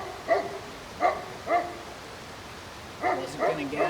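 Several dogs barking in short bursts, with three sharp barks spaced about half a second apart followed by a pause and a quicker cluster of barks, moderately near, set on an outdoor film shoot.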